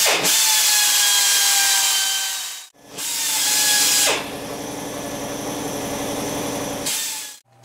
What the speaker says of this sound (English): I'm going to start drilling this out where we get our 3/8 bolt to